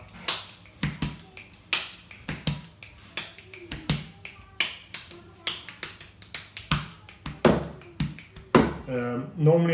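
Kitchen body percussion lesson with a brisk, steady run of close hand claps and finger clicks layered over table taps, ending as a voice begins talking at the very end.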